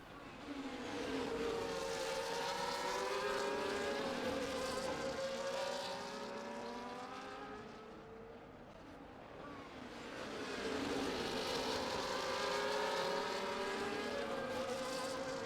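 Formula 1 cars race in F1 24 at the Singapore track, high-pitched engines whining and shifting as they pass, swelling loud, dipping away briefly, then surging back in a long continuous drone.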